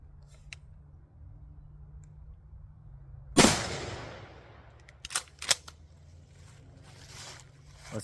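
A Remington 870 Express Magnum 20 gauge shotgun fires once at a target outdoors, a single sharp loud blast with a fading tail, followed by a few faint clicks and handling noises.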